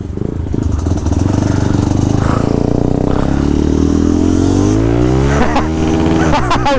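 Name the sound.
two-stroke 125cc dirt bike engine riding past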